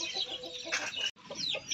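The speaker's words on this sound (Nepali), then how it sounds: "आँगनमा धेरै छ कुखुराहरु पनि" Several chickens cluck in a Nepali village courtyard, a few quick overlapping calls close by, broken by a brief pause, with no talking.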